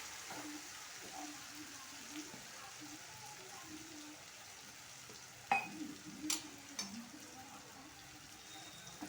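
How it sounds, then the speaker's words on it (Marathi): Cumin, curry leaves, chili and garlic paste sizzle quietly in hot oil, a soft steady frying hiss with a few sharper clinks and scrapes of a spoon against the pan near the end. "तेलात बघा आता मी जिरे कढीपत्ता मिरची लसूणची पेस्ट हे टाकलं आणि ते थोडं परतून घेऊ"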